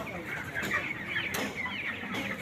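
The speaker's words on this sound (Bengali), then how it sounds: "ব্রয়লার মুরগি মাংসের জন্য এগুলোকে কাল্টিভেট করা হয়" Broiler chickens on a poultry farm, sitting huddled in the heat, cluck and murmur as a dense, continuous flock chorus close by, with a couple of louder squawks standing out.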